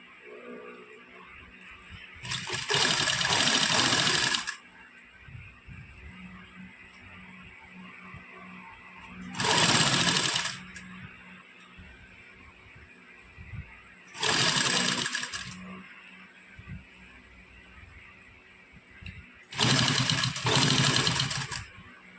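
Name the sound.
sewing machine stitching a half collar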